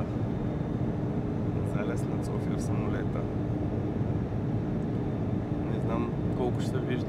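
Steady, loud broadband drone of an airliner cabin in flight over Sofia at sunset, a constant roar filling the whole clip with faint voices murmuring underneath.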